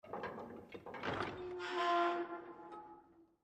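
A heavy door opening in a video game, a series of dull thunks and clanks leading into a grinding, ringing scrape that fades away, fairly quiet and alone.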